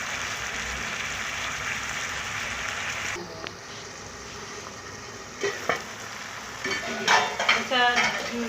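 Chicken cooking in a pan with added ingredients for a chicken vegetable macaroni: a dense, close sizzle fills the opening seconds, then softens as utensil clinks and pot clatter follow.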